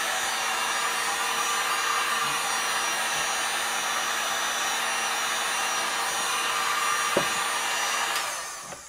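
A heat gun blows continuously while applying edge banding to a desk, a steady close whooshing roar with a faint whine that cuts off near the end.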